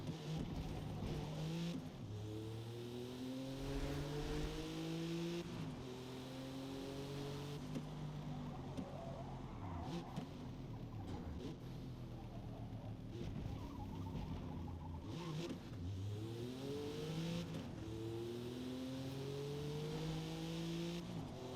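A Porsche 911 in a racing game revs and shifts repeatedly, the engine note climbing in pitch, dropping at each gear change and climbing again in a rhythmic cycle, fairly quiet and steady throughout.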